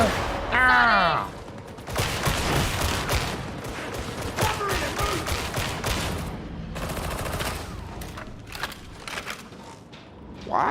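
Gunfire in Warhammer 40,000: Darktide, with sustained bursts of shooting and crackling impacts through most of the stretch, loud and busy, and game voices and shouts mixed in.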